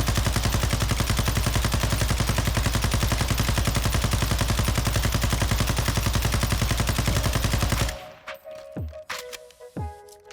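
Rifle fire in Warzone 2 hammers out as one long, loud, rapid automatic burst for about eight seconds, then stops abruptly, leaving a few brief clicks and mechanical handling sounds.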